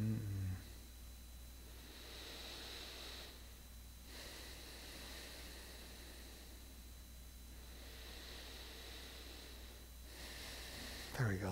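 Slow, deep breaths during a yoga class, several long airy inhales and exhales rising and falling in a calm, quiet room with a faint steady hum underneath.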